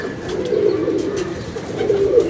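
A pigeon coos close by, a soft, throaty, rolling call sustained for a couple of seconds, with faint rustling and other bird sounds in the background.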